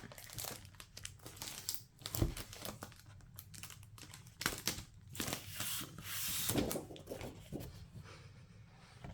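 Paper crackles and crinkles in bursts as a sheet of craft paper is tugged out of its packaging, close and fairly loud, with irregular rustling through the stretch and no talk.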